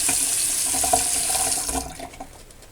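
Steady rushing of tap water running into a sink during shaving, close and continuous, then tapering off near the end.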